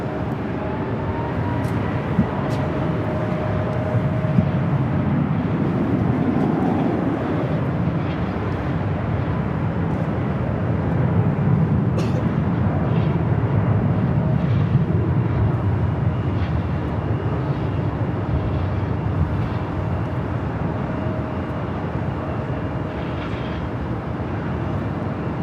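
An Alaska Airlines Boeing 737 MAX 8 bound for Seattle at LAX gives off a steady, moderately distant jet engine roar with a broad rumble that swells slightly midway and then holds.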